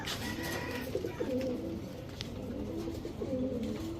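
Pigeons coo softly in repeated low, throaty phrases, a few close together, over a quiet background.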